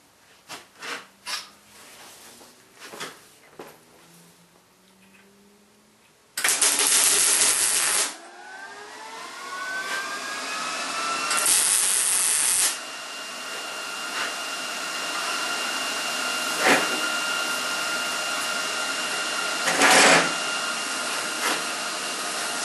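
Tack welding parts onto a metal fab table: a few short, loud bursts of harsh hissing, crackling arc, each a second or two long, separated by quieter workshop noise and clanks.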